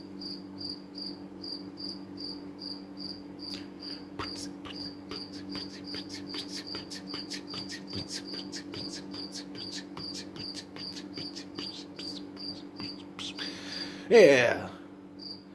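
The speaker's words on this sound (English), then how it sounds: "This cricket is laying a fresh beat." A cricket chirps in a steady, even pulse of short high notes, close and clear over a low background hum, with a brief loud rustle near the end and a person speaking briefly.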